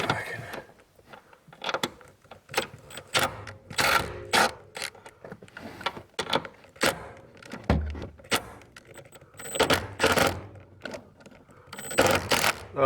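An impact driver with a 13 mm socket works loose a rear shock nut on a 2010 Mercedes C300, giving close, repeated bursts of rattling, ratcheting hammering separated by short pauses.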